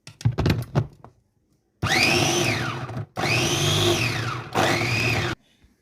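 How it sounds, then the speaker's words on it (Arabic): An electric chopper blending onions whines in three loud sustained bursts with short pauses between, preceded by a few sharp clattering knocks as the lid and bowl are handled. "نضربهم في الكبه لما يبقوا ناعمين خالص"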